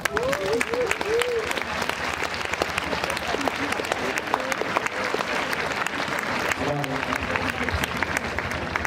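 Audience applause at a school talk, dense and steady throughout, with a faint voice cutting through near the start and again toward the end.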